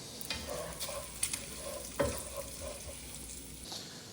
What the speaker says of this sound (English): we can add the bacon pieces and saute them until they turn brown and crisp